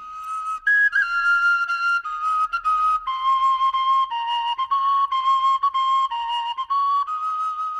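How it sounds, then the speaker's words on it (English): A tin whistle plays a bright, clear melody of short phrases with quick note changes and brief gaps, loud and close, with nothing else audible. "That's a tin whistle"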